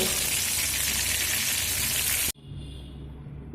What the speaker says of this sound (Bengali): আর একইভাবে বাকি চিকেনগুলো ভেজে নেব